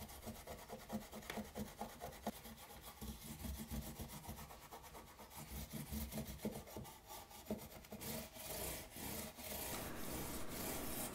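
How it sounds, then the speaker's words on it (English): A wooden guitar fretboard is scrubbed side to side to lift built-up gunk, producing a faint, continuous rasping rub with rhythmic strokes that grow brisker toward the end. "scrub against the grain of the wood by going side to side"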